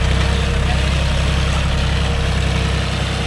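A John Deere 5105 tractor engine runs steadily at idle in a farm field, a loud, continuous low diesel rumble with an even throb and no breaks.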